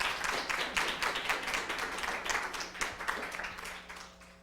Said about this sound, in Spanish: No nos queda más que volver a agradecer esta charla con un aplauso.